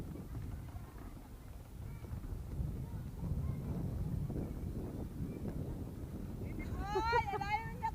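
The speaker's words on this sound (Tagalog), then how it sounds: "Lakas ng hangin." Strong night wind at a hanging bridge roars and buffets the microphone in a low, continuous rumble, with a brief rising whistle-like sound near the end.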